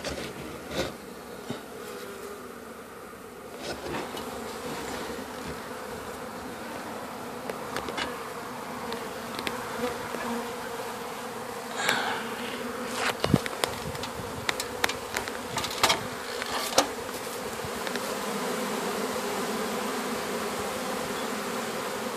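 Honeybees buzz continuously around a top bar hive during a removal, a dense close hum with occasional louder passes of single bees near the microphone and no talking.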